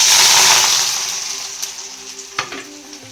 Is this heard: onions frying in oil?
yes